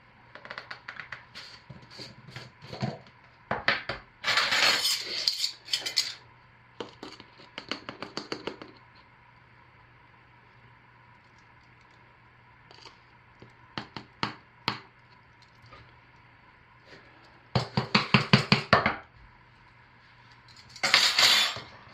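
Activated charcoal being stirred into fluid soap batter for a honeysuckle soap, heard as scattered clusters of close scraping and clinking utensil strokes with quiet gaps between them, no voices.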